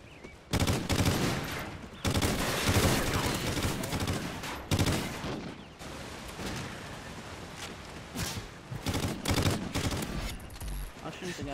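Gunfire in a gun game match in a video game, loud bursts of rapid automatic fire that start and stop several times, with people talking at times between the volleys.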